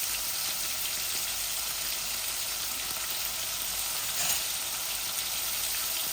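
Spices and salt fry in hot oil for tilapia with potato, producing a continuous crackling sizzle that stays even and close, with no voices.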